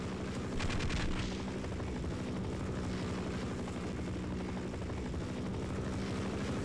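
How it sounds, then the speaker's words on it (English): In the video game Half-Life, a helicopter's rotor beats with a steady thudding drone, joined early by a quick burst of machine-gun fire, at a fairly low level with no talk. "How are you supposed to take on a helicopter?"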